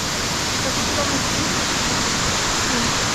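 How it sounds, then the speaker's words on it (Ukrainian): Zhornyky Waterfall in Ukraine roars in a constant, dense rush of white noise that fills the whole clip, close and steady. "Ми на Жорнікому водоспаді"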